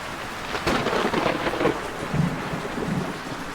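Thunderstorm at sea in the sailing game Sailwind, with rolling thunder rumbling over steady rain, a louder crack early on, then lingering low booms.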